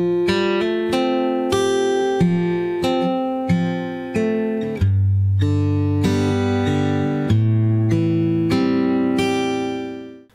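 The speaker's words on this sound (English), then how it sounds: "So the finger picking pattern slowed down sounds like this." An acoustic guitar in standard tuning plays a slow fingerpicked pattern, with clear plucked notes and ringing chords at an even unhurried pace, loud and close, ending on a sustained fading chord.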